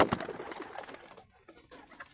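Pigeons coo close by in a short burst of soft, throaty calls and flutter-like rustles, with faint background noise and no speech.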